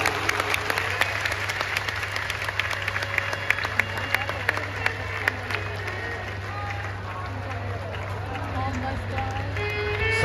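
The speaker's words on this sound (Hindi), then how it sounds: "एक बार जोरदार ताली बजाओ।" An audience at a Shiv Mahapuran katha, a Hindu religious discourse, claps loudly in a sustained burst of applause. A speaker's voice carries over the clapping throughout.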